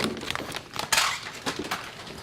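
Potatoes tumble into a metal pot in a home kitchen, giving a few hard knocks and rattles against the metal with a brief clustered clatter near the middle.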